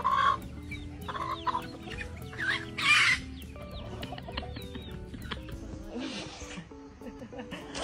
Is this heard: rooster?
yes